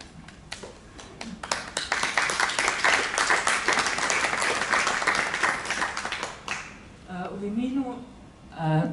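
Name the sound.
audience applause at a season programme presentation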